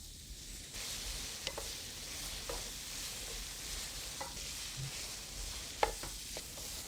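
Meat and vegetables, including carrot, stir-fry in a pan for bibimbap, giving a soft, steady sizzle with scattered taps and scrapes of a spatula, faint and without speech.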